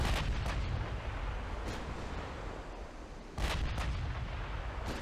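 Heavy naval gunfire from the battleship King George in the Ultimate Admiral Dreadnoughts naval warfare game, deep booming salvos at the start and near the end over a constant low rumble of sea and wind.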